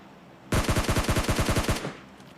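Rapid burst of automatic gunfire in the PUBG video game: about a dozen loud, evenly spaced shots fire in quick succession for just over a second, then stop abruptly, with no talking.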